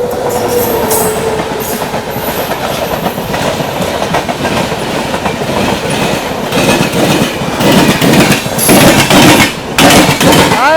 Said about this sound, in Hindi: Patna Ernakulam superfast express Gudur junction skip मारती हुई मार के आई है